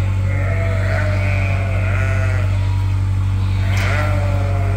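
Sheep held in a back pen on a farm bleat several times, each call wavering, over a loud constant low hum of machinery or engine noise.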